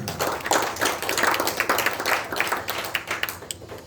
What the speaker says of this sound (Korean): 하나님 앞에 영광과 감사의 박수 올려드립니다